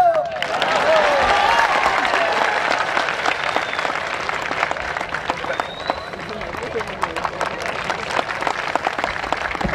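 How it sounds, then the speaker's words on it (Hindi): Audience applause at a stage show in Thane with a singer, a dense sustained wash of clapping and crowd noise that holds steady for the whole stretch, with voices mixed in. "ताली बजाओ यहाँ लो।"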